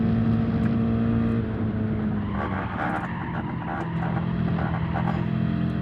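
A race car engine in Gran Turismo 7 holds a steady high-pitched drone in fourth gear, then shifts into a rougher, busier roar partway through, loud and continuous with no talk.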